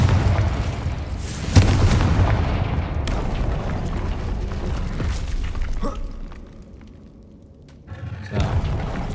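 A Confringo explosive spell cast in Hogwarts Legacy sets off a loud booming blast with a sharp burst near the start, rumbling debris and game effects, then a quieter pause before another impact thump.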